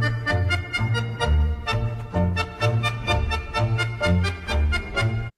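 A slowed down, pitched-down music sample plays alone at a heavy, dragging tempo. Deep bass pulses repeat in a steady rhythm under layered tones, with no voice.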